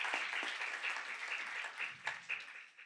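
A crowd applauds steadily, a dense patter of many hands clapping at moderate distance, fading slightly near the end.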